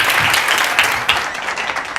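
Applause from an audience at a promotional event in Durban, a dense burst of clapping lasting a couple of seconds.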